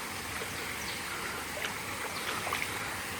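A cold stream flows over slippery stones at Vimleshwar temple in Devgad, burbling steadily at a low level, a continuous rushing stream with no voices.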